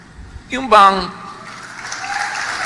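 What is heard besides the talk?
audience applause during a sermon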